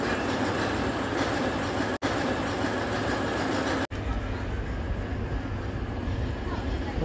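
A train rumbles steadily at Bucharest North railway station in spring, with a continuous loud wheel and carriage roar and faint clatter, plus brief cuts in the noise.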